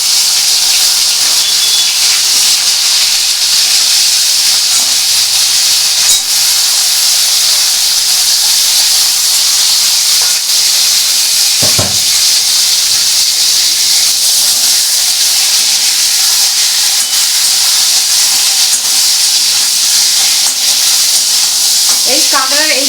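Crab pieces frying in hot oil with five-spice (panch phoron), a steady loud sizzle and hiss running throughout with a brief louder spit near the middle.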